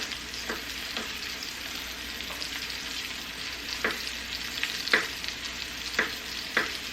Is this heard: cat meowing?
no